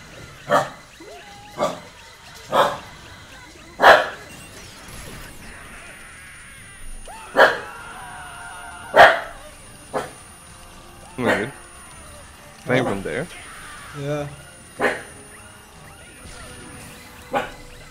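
A dog barks in sharp, separate yaps roughly every second or two, fairly close, while people chat and game sounds play in the background.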